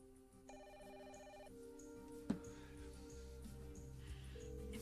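A telephone rings in a soap-opera scene, a short electronic ring pattern near the start, then a brief sharp knock and a quieter room hum.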